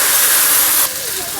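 Water poured into a hot pan of spices with salt and turmeric, a loud broad sizzling hiss of steam that drops suddenly partway through to a quieter bubbling simmer.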